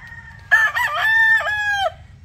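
A rooster crows on a gamefowl farm in Oklahoma, one loud, close, drawn-out cock-a-doodle-doo with a low background hum, and no one speaking.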